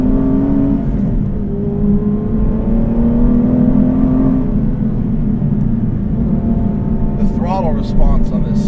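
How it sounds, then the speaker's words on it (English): Aston Martin V12 Vantage S with a manual gearbox, its V12 engine accelerating: a loud, steady drone that climbs in pitch as revs rise, heard from inside the car, with brief chirpy sounds near the end. "Throttle response on this 12 is really, really good."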